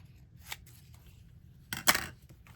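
A pair of quick scissor snips cutting paper for a craft project, a faint cut near the start and a louder crisp double snip toward the end in an otherwise quiet room.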